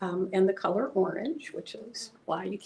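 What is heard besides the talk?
No everyday noises stand out.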